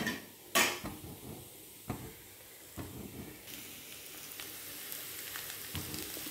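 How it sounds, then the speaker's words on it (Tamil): Potato slices fry slowly in a pan on low heat, a quiet, steady sizzle and hiss that builds gently, broken by a few brief clinks of utensil against pan. "ஒரு 5 நிமிஷம் அப்படியே சிம்மில் வச்சுட்டு நல்லா ஃப்ரை ஆகட்டும்."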